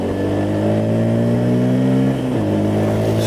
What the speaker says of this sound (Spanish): Vamos a acelerarla aquí otro poquito a ver